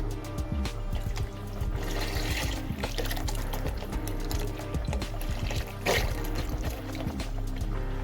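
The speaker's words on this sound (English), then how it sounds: "we're gonna add the water now" Water is poured into a pot of bolognese sauce, giving an irregular splashing and gurgling pour with a few louder surges over several seconds and no talking.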